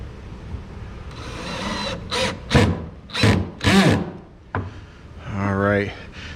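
A power drill set to low torque drives soft screws into self-closing hinges on a nightstand cabinet door, whirring in several short bursts with clicks and a rising final spin.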